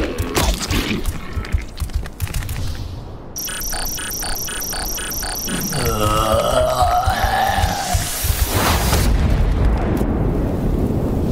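A bomb blast in an animated apocalypse action scene: a broad, roaring burst swells late in the stretch after tonal, music-like effects, loud and close.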